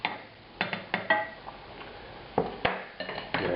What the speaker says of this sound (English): Now I'm going to use the same large spatula again to move the fish off to a plate